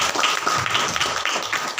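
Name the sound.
congregation clapping loudly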